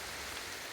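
Outdoor rain falls steadily in Stringtown, Kentucky, a dense even hiss of drops with no break in loudness over a brief moment and no voices.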